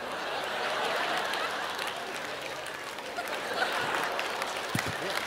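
A comedy show audience claps steadily, a dense wash of applause that holds at an even level for a few seconds with a faint murmur of the crowd underneath.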